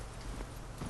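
Hooves of a horse clip-clop in the video game The Witcher 3, a brief, faint patter of a few hoofbeats.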